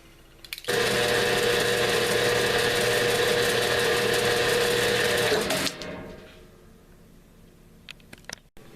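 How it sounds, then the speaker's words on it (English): A bandsaw cutting through a steel steering shaft from a 1957 Chevy 3100, a loud sustained whine and grind for about five seconds that then winds down, followed by quiet shop sounds and a few knocks. "We'll throw that on the bandsaw and cut it."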